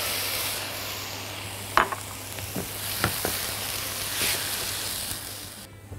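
Tomatoes hitting a hot pan for a steak sandwich give a steady close sizzle and hiss, with a few sharp crackles and stirring scrapes over six seconds.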